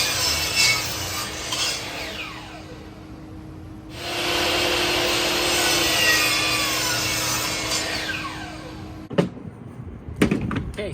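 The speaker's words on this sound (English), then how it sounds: "we cut our wood, our lumber, our timber just like this" Hand-sawing wood lumber for a rustic bench: a continuous rasping saw stroke, close and loud, stopping near the end before a few knocks and clatters.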